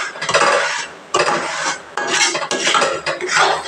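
A spoon scrapes and stirs a thickening ABC malt mixture in a pan in several loud, close rasping strokes separated by brief pauses, with no talking.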